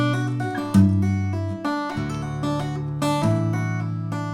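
Fingerstyle guitar plays a short two-bar phrase of plucked notes with hammer-ons and pull-offs, mixing ringing bass notes and quick melodic slurs, heard alone and up close.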